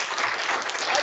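An audience claps in a brief, dense burst of applause that fills the room evenly and then cuts off, with no voices heard.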